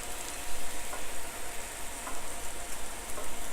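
Shrimp sizzle and fry in a hot pan, a steady close crackling hiss that carries on alone the whole time with no talking.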